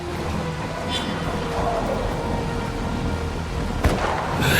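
Steady heavy rain with a rumble of thunder in the video game Dying Light The Beast, a dense continuous wash with a sharp crack near the end.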